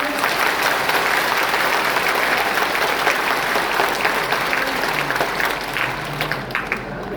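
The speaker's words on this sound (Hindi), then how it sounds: "एक बार और फिर जोरदार तालियां बजानी चाहिए।" Loud audience applause at a Bihar State Madrasa Education Board event attended by Chief Minister Nitish Kumar: dense, sustained clapping from a large crowd throughout, with crowd noise and some voices beneath it.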